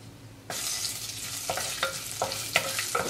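Vadagam, a dried seasoning, dropped into hot oil in a pan for a Tamil fish curry, hissing into a steady broadband sizzle with a few sharp stirring scrapes and crackles, close and loud with no talk.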